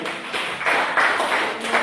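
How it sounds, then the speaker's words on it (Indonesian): Brief burst of classroom applause for a student group, a busy patter of hand claps that swells in short waves across under two seconds, with no voices over it. "Tepuk tangan dulu untuk kelompok 2 sekali."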